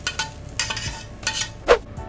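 Sliced peppers and onions sizzle in hot sunflower oil in a pan, with repeated scraping bursts of a utensil stirring them amid the steady frying hiss, close up.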